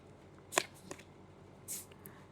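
Tarot cards being shuffled and drawn at close range: two quick soft riffling bursts, one early and one later, with faint card rustles between them over a quiet background.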